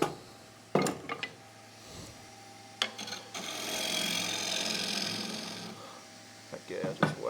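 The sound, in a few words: gouge hollowing out a wooden bowl on a lathe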